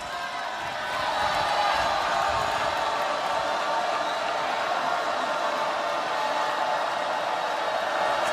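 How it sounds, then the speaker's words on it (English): Steady crowd murmur fills an arena at a Nebraska versus Kentucky NCAA women's volleyball match inside the Devaney Center, a dense, even roar with no distinct cheers standing out. "Crowd getting a little edgy inside Devaney with Nebraska down"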